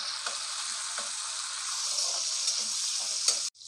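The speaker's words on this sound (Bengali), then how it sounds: "দুটো একসাথে আমি সুন্দর করে ভেজে নেব।" Red and green capsicum fry together in oil with a constant bright sizzle and occasional stirring clicks, then the sound cuts off abruptly near the end.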